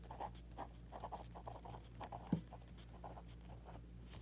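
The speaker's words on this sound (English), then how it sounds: "So on the second line, we're going to write Columbine." A pen writes a title by hand on paper in a works-cited example, a steady run of soft, close scratching strokes with brief gaps and one small tap midway, without speech.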